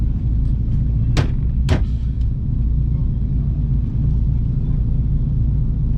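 Drift car engine droning through a lap, a heavy steady low rumble with two sharp cracks partway through, heard from inside the cabin.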